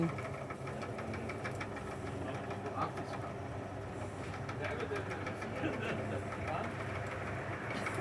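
A steady low mechanical hum with a faint rhythmic knocking runs throughout as a small motor turns a spit roasting a whole pig, with soft background noise.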